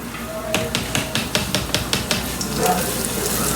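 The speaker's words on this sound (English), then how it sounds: "You can hear it sizzling." Flour-dusted beef for stew sizzles steadily in a pan on medium-high heat, with a run of sharp clicking taps in the first half and no talking.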